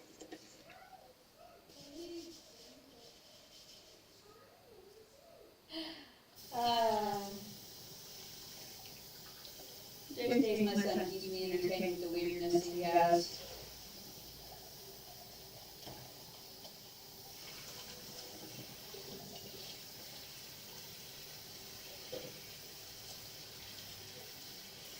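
A kitchen tap with strong water pressure runs into a sink while dishes are washed, the flow swelling into louder splashing bursts midway, and a person talks over it at times.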